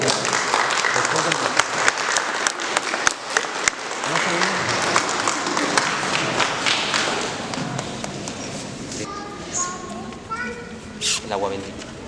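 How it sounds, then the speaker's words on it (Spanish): Applause for a newly married couple at a church wedding ceremony fills the whole stretch, dense and sustained, with scattered taps, thumps and children's voices mixed in and some talk near the end. "Les damos un fuerte aplauso."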